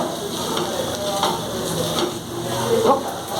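Sliced okra frying in a pan with tomato, a dense, constant sizzle close by, and a spoon scraping and stirring through it at irregular intervals.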